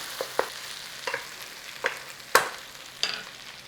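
Sausage meat and onions frying in a pan make a low steady sizzle, punctuated by five or six crisp scraping stirs that stand out clearly, nearby and without any talking.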